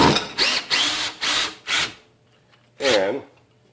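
A Ryobi 18 volt One Plus cordless drill driver whirs close in five short bursts, then pauses, then runs once more; a voice speaks over it.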